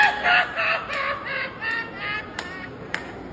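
Chicken clucking and crowing-like fowl calls in a short series of bursts, fairly close and clear with no talking.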